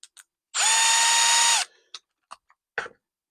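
A Milwaukee M12 installation driver fitted with a drill chuck attachment spins up in one whirring, high-pitched burst of about a second, close and alone, followed by a few light clicks and taps.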